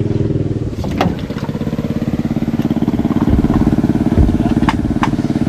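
An 18-horsepower boat engine drones steadily and loudly up close, with a rapid pulsing rhythm and occasional clanks, while people talk faintly in the background.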